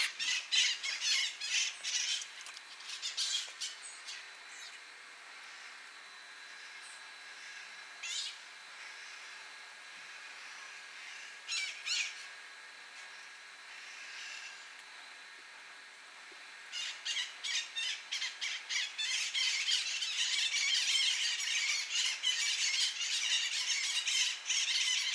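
Red-crowned parrots calling in San Diego, loud harsh squawks that come in bursts with quiet gaps between them, then build into a dense, continuous chorus toward the end.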